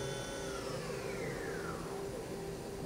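A Hurco vertical machining center's spindle runs at 4,000 RPM with a steady, smooth whine and hum, faint and unbroken, and nobody speaks.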